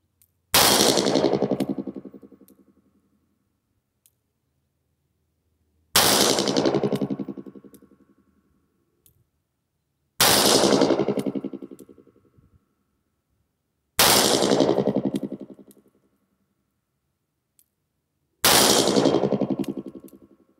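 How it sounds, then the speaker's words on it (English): Loud .357 Magnum shots fire from a 4-inch Model 28 revolver at a steel target about 20 yards away outdoors. Five sharp blasts come a few seconds apart, each trailing a long echoing decay, with no talking. "we're gonna shoot six rounds real quick from the 4-inch Model 28"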